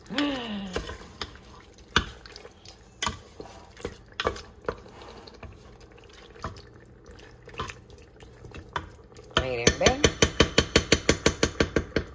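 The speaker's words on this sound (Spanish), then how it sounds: "Ahora vamos a revolver un poquito como para que esa carne coja" A spoon scrapes and knocks against a pot while pork meat is stirred, irregular close clinks and wet stirring sounds that quicken into a rapid run of taps near the end.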